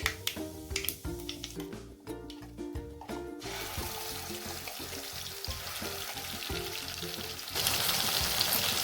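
Ground spice paste frying in a cumin and mustard seed tempering: rattling stirring clatter at first, then a dense, continuous sizzle that grows louder near the end.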